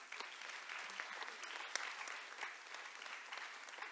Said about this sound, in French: Par applaudissement